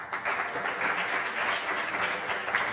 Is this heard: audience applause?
yes